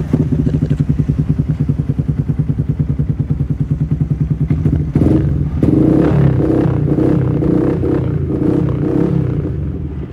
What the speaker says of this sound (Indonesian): sekarang kita akan coba untuk suara knalpot di motor ini kayak gimana nih